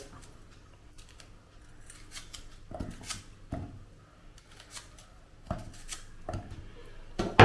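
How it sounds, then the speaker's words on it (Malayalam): Onion is cut with kitchen scissors while preparing an ivy gourd stir-fry, giving a series of crisp snipping cuts that come in small irregular clusters, close by over a quiet background hum. "സവാളയും നമുക്ക് വേണ്ടി ഇങ്ങനെ ഒന്ന് മുറിച്ചിട്ട് കൊടുക്കാം"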